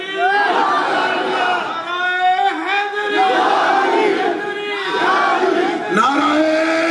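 A large crowd at a Muslim religious gathering chants slogans in unison, answering in loud rhythmic waves of massed voices with short pauses between calls.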